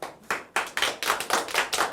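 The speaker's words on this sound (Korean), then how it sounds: "우리 같은 박수로 맞아주셔서 막 힘이 나네요" A small audience claps to welcome a speaker at a Vietnam investment lecture, several sharp bursts of hand claps forming a brief, uneven round of applause close by.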